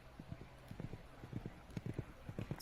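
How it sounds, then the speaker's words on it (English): A game mare gallops across the 2024 Bromont CCI cross-country course, her hooves drumming in steady rhythmic clusters of beats, moderately distant and fairly faint against open outdoor air. "What a gallop on this horse!"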